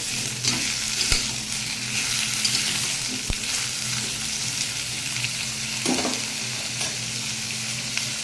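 Lau leaf fritters (bora) sizzle steadily in hot oil, a close, continuous crackle with occasional stirring knocks and no talking.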